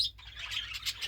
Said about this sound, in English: See those birds in the background there?